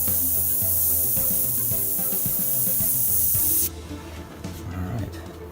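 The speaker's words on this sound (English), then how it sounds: "Gotta wait for that airbrush to just kick in just enough." A hand-held airbrush sprays paint onto a 1978 Chevy van, giving a loud continuous hiss that cuts off abruptly partway, leaving quieter background noise.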